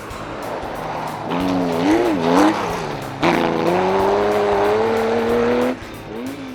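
Classic rally cars, including a small Porsche, race flat out on a tarmac special stage. The engines roar and rev with pitch swings and gear changes, cutting off abruptly between passes.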